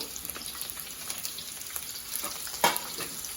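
Ginger, garlic, pepper, cinnamon and cloves fry in a pan for a mutton curry, giving a steady soft sizzle with a brief louder stir or clink partway through, no talking.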